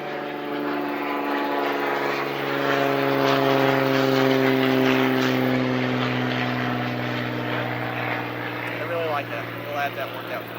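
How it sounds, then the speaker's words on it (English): A propeller plane drones overhead with a steady, humming engine tone that swells and then slowly fades. A person talks over the continuous noise. "I got a plane flying over."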